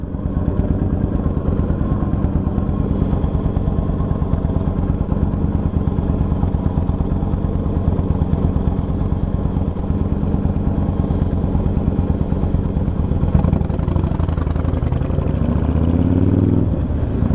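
Cruiser motorbike riding along a coast road with a 40 speed limit, engine droning loudly and continuously with a steady throbbing pulse and wind rush, a brief shift in tone near the end, no speech.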